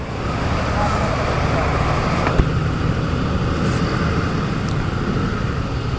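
Dense city traffic near Quiapo Church in Manila on a Saturday after rain, with flooded streets. A steady loud roadway rumble of engines runs throughout, a voice talks over it, and a brief thump stands out midway.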